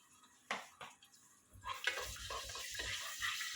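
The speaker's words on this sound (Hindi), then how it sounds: "इन दोनों को मैं थोड़ा सा भून लूँगी" Chopped chilies and ginger garlic paste frying in a pan for chicken biryani: a few faint clinks, then a rising close sizzle with soft stirring scrapes, fairly quiet overall, no talking.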